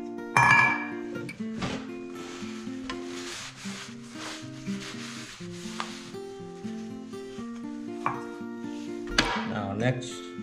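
A knife chops a tomato on a cutting board while music plays loudly over it, the knife taps faint and irregular beneath the tune.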